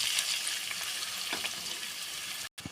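Onions, green chilli and tomato sautéing in a pan for a mutton kola urundai kulambu, a steady bright sizzle with a few soft stirring scrapes and a brief dropout near the end, no talk.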